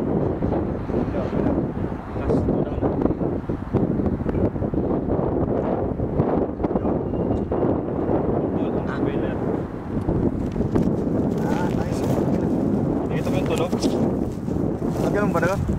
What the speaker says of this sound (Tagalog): Lakas ng hangin ni Amar